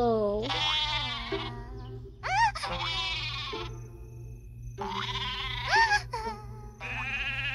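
Sheep bleat repeatedly in a children's counting cartoon, several wavering, high bleats in quick succession over a steady low background hum, with no talking.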